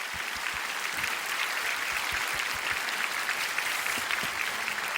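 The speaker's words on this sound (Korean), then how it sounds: "박수 한번 주시면" Applause fills a hall as the audience welcomes a guest onto the stage at a gathering, a sustained, even clatter of many hands clapping together for about five seconds, heard from a distance and uninterrupted by speech.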